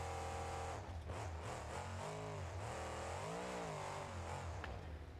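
A 632 cubic inch Chevy monster truck engine in BeamNG.Drive revs hard with no supercharger, its pitch repeatedly sweeping up and down in quick surges while it powers through corners, loud and continuous.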